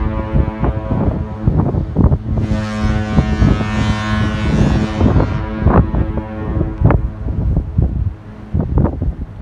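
Boat passing under the Lions Gate Bridge in Vancouver, British Columbia: a steady low engine hum with wind buffeting the microphone and a brief broad rush of wind or water in the middle, no talk.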